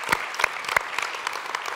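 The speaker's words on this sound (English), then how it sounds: "Come on, let's clap for that." A church congregation breaks into scattered applause, a few sharp claps standing out over a steady patter of hands that runs the whole stretch at moderate volume.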